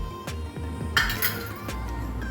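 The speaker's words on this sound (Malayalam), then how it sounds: "ഒഴിച്ച ഉടനെ നല്ലോണം ഇളക്കുക" A spoon clinks and scrapes against a pan while a paneer curry thickened with cornflour is stirred. The taps and knocks are irregular and close, with one brighter clatter, over a faint steady hum and no talking.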